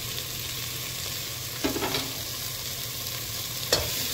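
Chili, coriander, cumin, garam masala and chole masala powders stirred and sautéed in a hot pan for white matar and aloo chole, a steady low sizzle with a couple of brief scraping stirs.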